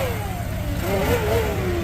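A lawn mower with a Kawasaki engine revs up, its pitch rising and wavering in a steady, loud, nearby drone with no talk over it.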